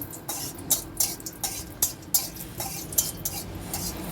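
Food stirred in a pot during home cooking, a spoon scraping and knocking against the metal in an uneven rhythm of repeated clinks, close by with a faint sizzle underneath.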